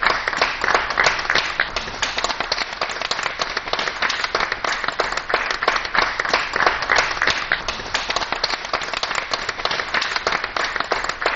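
Sustained, even applause from the audience at a DD Uttar Pradesh award ceremony, dense crowd clapping holding steady at full volume for about eleven seconds.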